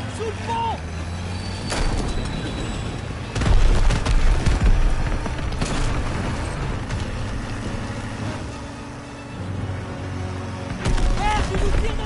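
Gunfire and explosions from the World War II shooter game Call of Duty WWII: loud booms and sharp bursts over a constant rumble of vehicle engines. Excited voices shout throughout.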